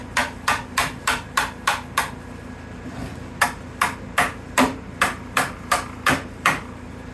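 Repeated sharp hammer blows strike waxed molds with silicone-sealed seams to knock them apart, about fourteen evenly spaced impacts in two runs with a short pause between, close and loud.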